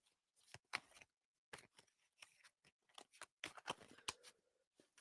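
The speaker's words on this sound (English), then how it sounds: "These cards shuffle weird." Quick bursts of crisp card-shuffling riffles, close by and irregular, with short quiet gaps in between.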